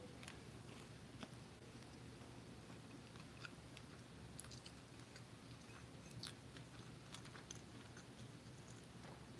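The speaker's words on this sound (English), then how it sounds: "I'm gonna go bite the crust first because I've been eyeing this piece." Biting and chewing the crust of a leftover bell pepper and chili dish, quiet close crunchy ticks and soft mastication scattered irregularly over a faint steady background hum.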